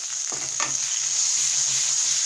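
Chopped tomato frying in hot oil with spiced masala for a Bangla mankochu egg curry, a steady bright sizzle broken by a few soft spatula scrapes and stirs close by.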